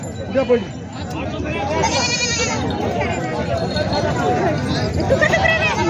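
Goats bleat among a busy crowd at a rural goat market in Jawala, Maharashtra, with a burst of calls around the middle, heard under steady talk and market chatter.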